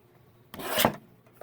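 Scissors trim a paper tree cut-out for a Christmas planner journal: one short, close snip-and-rub lasting about half a second, then quiet with a faint tap.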